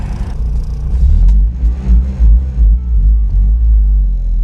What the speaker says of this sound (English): I'm revving it out so high just to move 2-3 miles an hour